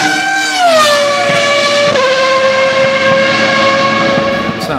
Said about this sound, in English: It probably sounds like a 2000 generation Formula One car